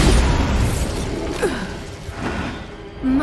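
Bombarda and Incendio spell blasts go off in the video game Hogwarts Legacy, a dense run of booming bursts and crackling pops with faint game voices mixed in underneath.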